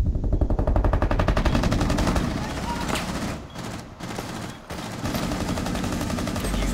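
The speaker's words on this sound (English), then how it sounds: "he's shooting at me" Sustained automatic gunfire from a Rainbow Six Siege match, dense rapid bursts close and loud for most of the clip with a couple of brief pauses, with game noise and some voice underneath.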